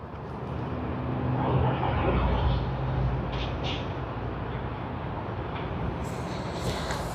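An Air Asia X Airbus A330-300 lands on runway 34L at Sydney Airport. Its broad, rumbling jet roar holds steady at a moderate distance, swelling slightly before easing off.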